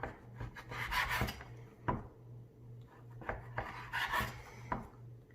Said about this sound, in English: Now I'm trying to get just the pellicle itself.